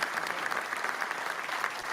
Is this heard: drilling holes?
no